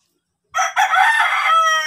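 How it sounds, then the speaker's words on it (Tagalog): A fighting cock crows loudly and close on a Philippine rural farm. One full cock-a-doodle-doo starts abruptly after a silent lead-in and holds to the end of the clip, with no talk. "At ito yung manok na nagbibigay ng swerte din sa mga manok na nandito."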